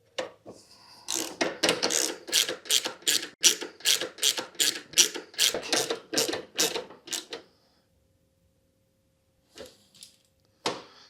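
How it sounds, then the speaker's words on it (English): A ratchet tightens the number 10 bolt on a Husqvarna AWD mower during a belt replacement, giving about a dozen loud, evenly spaced rasping clicks up close. Silence follows, then two short isolated clicks. "I'm going to tighten down the number 10 from the back"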